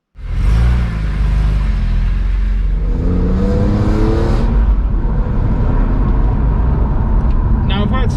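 A BMW E46 M3 CSL with an SMG gearbox pulls away, its engine surging into a loud revving rumble that rises, shifts and settles into a steady cruising drone heard from inside the car.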